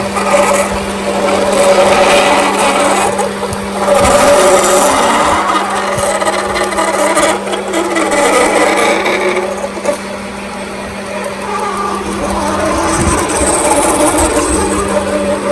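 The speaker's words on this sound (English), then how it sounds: "You want to see if the boring or the gun drill is wobbling up and down." A gun drill boring a large plastic rod makes a steady grinding, rasping sound, continuous and close, with a low hum underneath and brief shifts in intensity.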